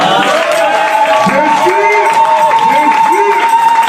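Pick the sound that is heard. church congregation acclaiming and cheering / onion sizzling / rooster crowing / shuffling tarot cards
church congregation acclaiming and cheering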